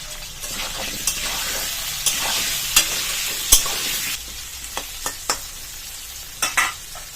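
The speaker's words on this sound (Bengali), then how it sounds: "এভাবে নাড়াচাড়া করে লাল লাল করে ভেজে নিব" Potatoes with salt and turmeric frying in a pan while being stirred, a steady sizzle broken by repeated scraping and clacking strokes of the spoon, close and clear.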